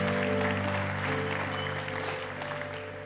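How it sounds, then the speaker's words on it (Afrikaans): A church congregation applauds after a prayer, a sustained wash of many hands clapping at moderate distance over a steady low hum, tapering slightly at the end. "Kom ons gee vir hulle lekker hande klap."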